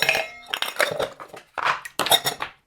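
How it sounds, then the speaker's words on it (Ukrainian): Ice cubes poured into a metal shaker in a few quick bursts, clattering and rattling up close with short gaps between pours. "Засипаємо лід."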